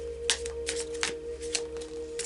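Tarot cards are shuffled in quick, crisp riffling bursts, close and fairly quiet, over a steady low hum.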